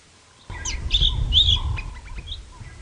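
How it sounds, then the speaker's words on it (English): Several birds chirp and tweet with short, high calls over a low outdoor rumble, fairly close and clear. "There's a few birds calling just to my left"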